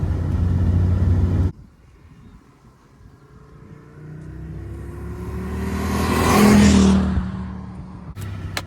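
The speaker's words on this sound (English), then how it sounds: "Nothing sounds like a 5-cylinder." A 1985 Audi UR Quattro with its five-cylinder engine revs up after a loud opening burst, the note rising and swelling to a peak near the end before easing, heard fairly close without talk.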